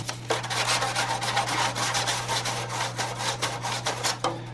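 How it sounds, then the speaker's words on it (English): Sandpaper rubbed over a rough spot on a clear Lexan RC car body, a close, steady scratchy rasping in quick back-and-forth strokes that runs almost without pause for several seconds. "We'll take the sandpaper"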